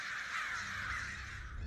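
Crows cawing in a horror film, a faint, continuous harsh chorus of bird calls heard alone, with no talk over it.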